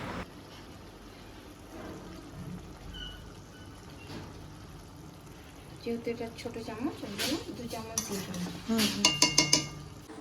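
Chili chicken with soy sauce and a splash of water stirred in a pan, with utensils scraping and clinking against metal, the stirring growing busier toward the end beneath occasional voices.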